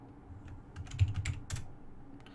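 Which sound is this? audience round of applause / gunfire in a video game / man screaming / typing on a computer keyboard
typing on a computer keyboard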